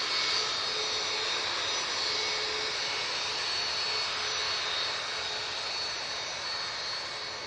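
A Ryanair jet airliner at Manchester Airport holds a steady, continuous engine roar at moderate distance, unbroken throughout, with no voices heard.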